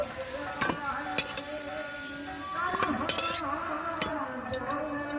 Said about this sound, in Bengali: আলু আমি লালচে করে ভেজে নিয়েছি। তো এখন আমি তেল ঝরিয়ে তুলে নিচ্ছি।